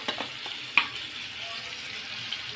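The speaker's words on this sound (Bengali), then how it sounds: "এখন আমি ভালো করে নাড়াচাড়া করে দিয়ে দিলাম" Browned onions sizzle and fry in a pan while being stirred, with soft scraping clicks and one sharper clink of the utensil against the pan, fairly quiet and close with no talk.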